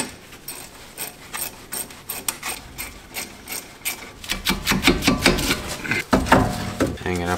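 A ratchet clicks in quick repeated strokes as it loosens the 14 mm caliper bracket bolts on a Chevrolet Cobalt front brake, the clicking growing louder and denser toward the end, with some talk mixed in.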